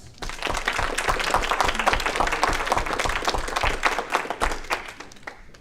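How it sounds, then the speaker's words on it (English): An audience applauds a panel of judges at a university student presentation event, a dense, steady wash of many hands clapping close by for several seconds before it begins to thin out at the end. "a round of applause for our esteemed panel of judges."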